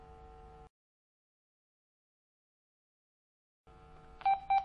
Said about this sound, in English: You hear 2 beeps as I change to that mode